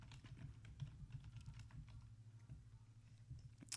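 Computer keyboard typing in quick, soft, irregular keystrokes, close but faint, over a low steady room hum.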